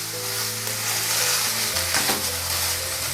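Boiled chow mein frying in a pan gives a steady, loud, close sizzle with a faint stirring texture, and no one speaks.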